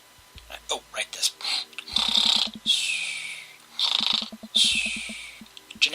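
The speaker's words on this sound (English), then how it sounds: "Generic snoring noises." Exaggerated cartoon snoring effect from the dating-sim game Dream Daddy, a run of loud inhale-and-whistle cycles with puffing exhales, repeating about every second and a half up close with no talk.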